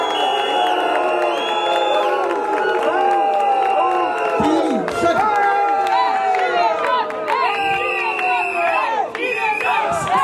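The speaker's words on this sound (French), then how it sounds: "je vous demande des applaudissements pour eux" A large outdoor crowd at a G7 fan club rally cheers, whoops and shouts in sustained applause for the police forces, loud and continuous throughout with many overlapping voices.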